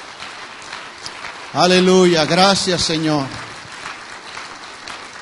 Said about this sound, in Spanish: Dale un aplauso fuerte de alabanza a Él.